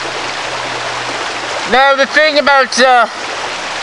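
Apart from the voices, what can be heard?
creek water flowing in the woods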